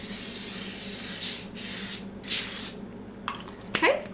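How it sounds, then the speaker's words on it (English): Cooking spray from an aerosol can hisses onto parchment paper in several short bursts, close and fairly loud, followed by a few faint handling clicks. "put some cooking spray on the parchment paper as well"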